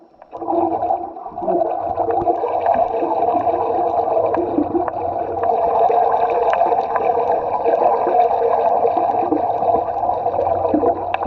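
Boat motor gurgling underwater, a dense, steady churning rumble that stays loud and unbroken throughout with no voices.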